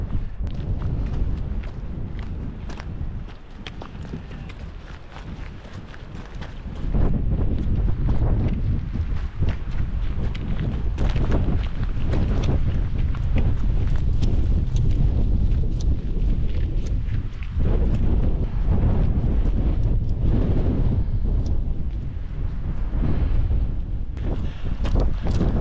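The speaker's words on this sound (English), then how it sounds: "A lot of gusts of wind about there." Strong gusts of wind in the Mourne Mountains buffet the microphone in a steady, roaring rush, briefly easing early on before surging again and holding loud to the end.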